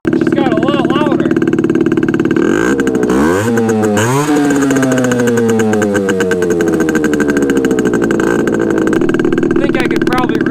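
Small Yamaha RX50 two-stroke motorcycle engine running on its first start after sitting as a barn find, loud and close, buzzing steadily with a couple of sharp revs that rise and slowly fall back toward idle.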